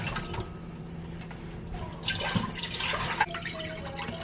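Chicken broth squirted from a carton into a pot, a soft liquid splashing and pouring that swells briefly in the middle, heard close up over a low steady background hum.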